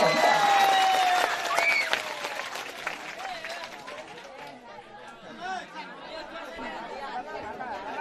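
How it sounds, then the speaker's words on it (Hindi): A village panchayat crowd at an outdoor public function applauds strongly for the first two seconds, then the clapping fades into a murmur of chatter and voices. "एक बार जोरदार ताली फिर से बजाइए"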